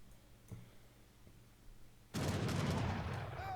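Musket volleys in the real-time strategy game Age of Empires III erupt as a sudden, dense barrage of overlapping gunfire that continues loudly after a few scattered earlier shots.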